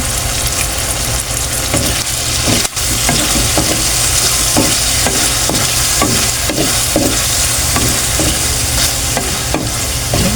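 Chili and seasoning stir-frying in a hot pan for chopsuey with vegetables and quail eggs: a loud, dense sizzle with repeated scraping and tapping of a utensil against the pan, close up and without talk.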